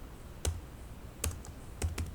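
A computer keyboard gives a few sparse, crisp keystroke clicks at a quiet level in three small bursts while a short command is typed, with no voices.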